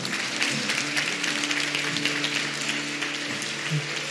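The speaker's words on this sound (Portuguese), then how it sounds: "Aplauda o Senhor." A church congregation claps steadily for about four seconds in a dense, even wash of applause, with a faint sustained musical tone beneath it.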